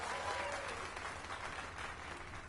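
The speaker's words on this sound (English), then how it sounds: "Let us give a round of applause for young Fulvio" A video game crowd claps continuously for a sculpture, a dense steady patter of applause at moderate volume throughout, with no voices standing out.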